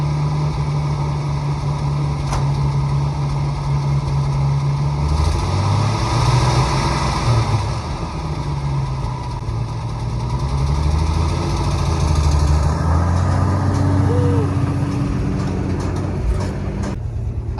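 An old rusty Ford truck, recently revived after twenty years of sitting, idles low and steady up close, a continuous rumbling drone with slight wavering in pitch.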